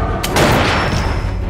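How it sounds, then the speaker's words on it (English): A gunshot in a film about Houdini catching a bullet, a loud sharp report followed by a dense, rumbling echo. "With a gunshot, Houdini wasn't hurt at all"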